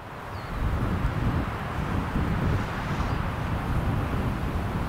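Steady, strong wind roars across a golf course during heavy rain, a continuous broadband rush buffeting the microphone with no pauses and no speech.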